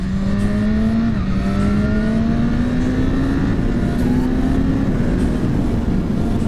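A 2017 BMW S1000RR motorcycle that had been crashed and rebuilt revs hard during a quick shifter test, a loud, close, continuous engine whine that rises in pitch with one brief dip at a shift.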